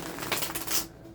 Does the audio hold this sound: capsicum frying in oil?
no